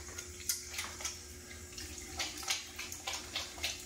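Tap water runs steadily into a sink during handwashing with antibacterial soap, with soft splashes and rubbing pulses recurring about every half second at close range, and no talking.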